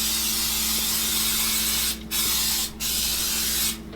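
Cooking spray is applied to a 9x13 baking pan in short hissing bursts, the spray breaking off briefly between pumps over a steady background, with no talking.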